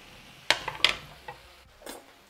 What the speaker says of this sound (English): Next, I add in the cauliflower. And next, the 4 potatoes, smallish potatoes.